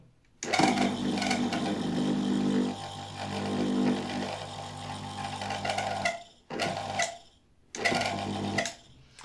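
Small electric motor with a rotor worn on the inside, whirring and rattling with a ticking mechanical clatter, run in several bursts that stop and restart near the end.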